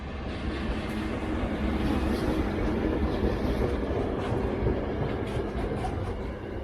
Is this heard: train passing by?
yes